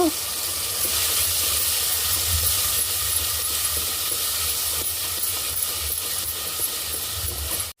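Green chillies and onion pieces sauté in a pan with a steady, close sizzle and hiss that holds throughout, with a low hum beneath and no talking.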